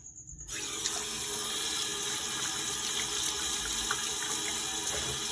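Tap water runs steadily into a sink during dishwashing of a homemade dish soap test, a continuous close hiss and splash that starts abruptly and holds without talk.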